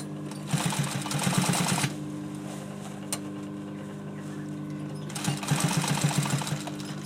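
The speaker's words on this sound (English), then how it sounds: "just put your foot in the machine there, and we just sew around, basically straight on top of the fabric" A sewing machine stitches fabric arm covers for a chair, running in two steady humming, rapidly pulsing bursts of about a second or more each, separated by a quieter pause, close and clear.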